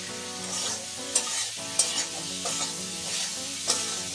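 Curry sautéed in a pan with a splash of water, a steady loud sizzle running throughout while a spoon stirs, with a few light scraping knocks against the pan and no talking.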